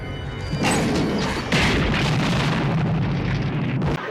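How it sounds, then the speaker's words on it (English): A stove blows up after being shot in a Child's Play movie scene, a sudden heavy boom followed by a sustained roaring, crackling blast that stays loud for several seconds. "Shoot at the stove and blow himself up sky high."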